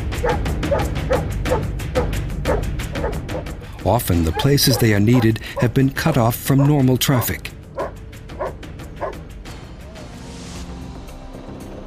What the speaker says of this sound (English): They show when they have found someone by barking.